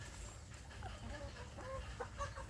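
Free-ranging village chickens in a small flock of hens with a rooster, clucking softly in scattered short calls, faint and close against low background noise.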